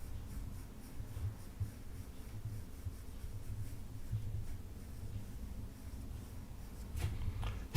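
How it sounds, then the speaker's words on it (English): Pencil shading on paper while a car is drawn, a soft continuous scratchy rubbing that carries on steadily up close and ends with a faint tap. "Now I apply a little bit of shading because there is a shadow there."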